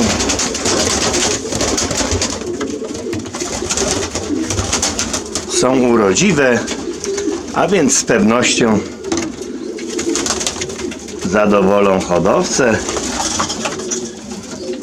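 Pigeons coo repeatedly in soft, throaty bursts close by, while someone talks over them.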